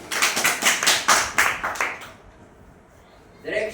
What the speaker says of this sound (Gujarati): તમારા માટે એક દિલથી તાળી થવી